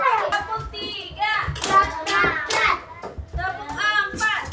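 Children in a classroom clap their hands in a counting game, the sharp claps mixed with lively young voices chanting and talking over them.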